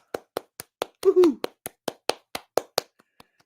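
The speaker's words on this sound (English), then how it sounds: "Let's give that a round of applause." A small group claps in a steady run of about a dozen sharp, separate claps, with a brief excited cheer partway through, fairly close and fading at the end.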